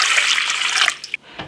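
Water pouring into the bottom of a stand mixer bowl before flour and oil go in for a flatbread dough, a bright, close splashing stream that tapers off into a few drips after about a second.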